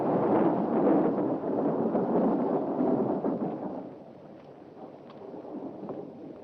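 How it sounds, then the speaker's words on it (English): A thunderstorm with a loud, broad rolling rumble of thunder that holds for about three seconds, then fades to a quieter ongoing storm roar. "Oh, it's a storm."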